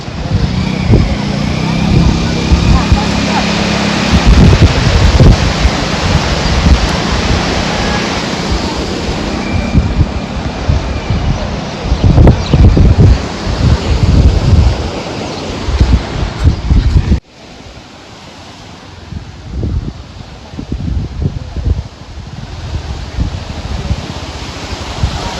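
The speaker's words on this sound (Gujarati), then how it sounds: "જો મિત્રો હમ કરતું પાણી જાય છે." The floodwater of the Sabarmati river rushes past in a loud, continuous roar with wind buffeting the microphone. A voice talks over it, and the roar drops to a lower, choppier level partway through.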